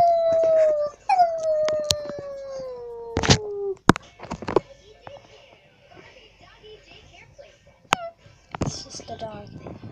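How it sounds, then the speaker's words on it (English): A dog gives a long, wavering howl that slides downward in pitch, followed by scattered sharp knocks and thuds and a brief later cry, in a tense film-trailer scene. "It's just the dog"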